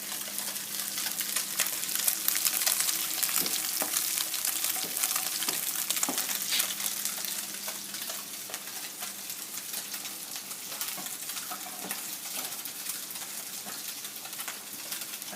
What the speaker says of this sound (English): you can see the color is changing. It's frying.